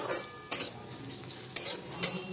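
A spoon scrapes through radish chhechki frying with sugar in a pan: three sharp stirring strokes over a soft, continuous sizzle, up close with no talk.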